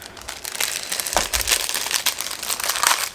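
A plastic package being opened crackles and crinkles continuously for a few seconds, close up, with a couple of firmer crunches partway through and no talking.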